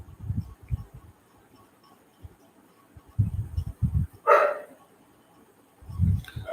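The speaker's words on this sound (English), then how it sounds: "Apologies if you hear dogs barking outside." Dogs bark outdoors in the distance during monsoon breeding season, a few scattered low bursts and one louder yelping cluster in the middle, heard alone without talk.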